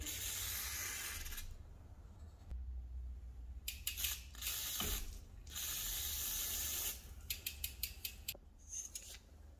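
Degreaser is sprayed from a bottle onto a bicycle chain in several hissing bursts: a few longer sprays, then a rapid run of short pumps near the end.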